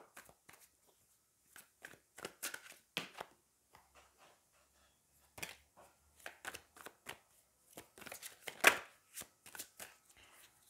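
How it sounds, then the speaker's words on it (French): Tarot cards are handled and drawn close by in a quiet room, giving soft, scattered slaps, flicks and sliding snaps with gaps of silence between them. "on va aller prendre une dernière carte du tarot"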